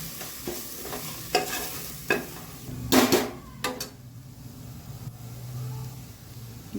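Kashmiri chilli powder and curry chilli powder being sautéed in a pan for a mutton keema curry: a soft, steady sizzle broken by repeated scraping stirs and a few louder clatters of a spoon against the pan.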